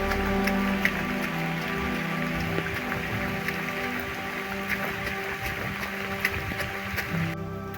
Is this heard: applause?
no